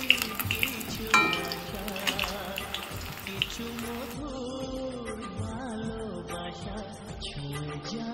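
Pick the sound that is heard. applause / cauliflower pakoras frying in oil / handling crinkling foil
cauliflower pakoras frying in oil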